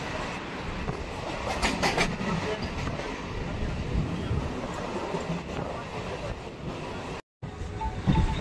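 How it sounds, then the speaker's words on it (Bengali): Heard from inside the Sealdah–Canning local train as it runs past Matla halt in the Sundarbans, a steady rolling rumble carries rhythmic wheel clatter, with a brief dropout near the end. "আমাদের ট্রেন পার করছে মাতলা হল্ট।"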